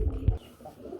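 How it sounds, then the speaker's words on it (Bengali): A pigeon gives a brief, low, throaty coo close by, a short burst of soft rounded sound that quickly fades. "কবুতরের ডাক দেখতে পাচ্ছেন?"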